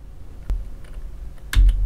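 The F key is tapped twice on a computer keyboard, two crisp, close clicks about a second apart against a quiet background.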